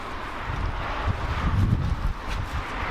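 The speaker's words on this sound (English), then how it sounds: "It's windy as hell" Heavy wind roars steadily across the microphone with low rumbling gusts, a constant loud outdoor rush and no voices.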